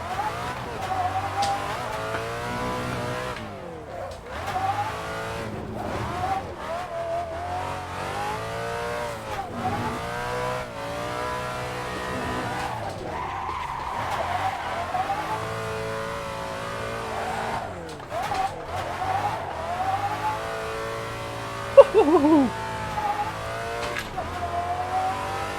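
Rocket Bunny widebody Nissan 350Z with a V8 drift build, engine revving hard and rising and falling continuously while tires squeal and skid through sustained slides, loud and close with a brief sharp spike near the end.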